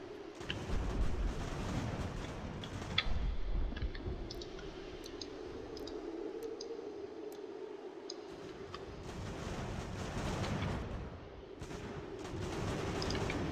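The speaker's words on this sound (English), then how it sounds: "our artillery still has a clear lane" Artillery fires shells on a Revolutionary War battlefield in Ultimate General: American Revolution: distant, muffled booms and crackling reports, scattered with sharp clicks. The firing is fairly quiet, swelling at the start and again near the end.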